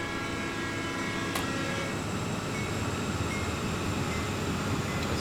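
A Santa Fe freight train in a train simulator game rumbles past in a steady, continuous roar of wheels and cars, with a brief sharp metallic click early on and no voices.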